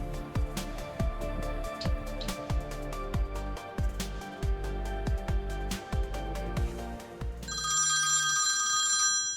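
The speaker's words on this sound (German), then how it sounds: "Es klingelt" A telephone rings repeatedly in a regular pattern of short electronic trills, then a brighter, higher ringtone takes over near the end, fairly close and with no talking.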